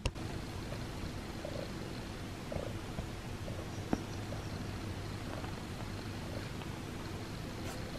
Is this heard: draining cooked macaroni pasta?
no